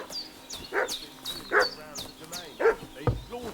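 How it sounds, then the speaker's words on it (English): A dog barks repeatedly in the medieval village of Kingdom Come: Deliverance 2, four sharp barks spaced about a second apart at moderate distance, with faint background ambience. "What's that dog making such a fuss about?"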